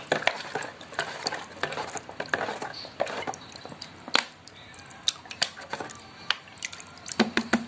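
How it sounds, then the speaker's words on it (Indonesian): A mix of Yakult, rice water and brown sugar is stirred in a container, giving faint repeated scraping and clinking strokes with soft liquid sloshing in an irregular rhythm. "Kita tuangkan saja semuanya. Kita aduk-aduk. Ini aduk-aduk aja."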